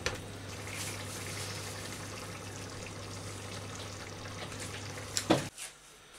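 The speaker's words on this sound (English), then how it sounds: "I'm just going to put some coriander in there, fresh coriander, and give that a stir." Green fish curry simmering as fresh coriander is stirred in, a steady bubbling hiss with a low hum throughout, closing with a few clatters of the spoon against the pan.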